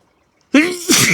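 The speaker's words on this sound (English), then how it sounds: "and I'm going to sneeze." A single sharp sneeze bursts out close and loud after a moment of near silence, with a drawn-in breath before the explosive release, outdoors on a cold day by a koi pond.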